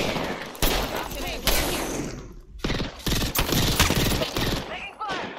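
Rapid automatic gunfire in the Apex Legends video game, loud dense bursts in several volleys with brief gaps, voices talking underneath.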